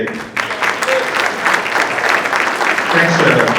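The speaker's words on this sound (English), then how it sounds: "All right, one more round of applause for Steve Baker." An audience at a VIP breakfast applauds an honoree, a loud, dense wash of clapping that holds steady for several seconds, with voices and cheers mixed in.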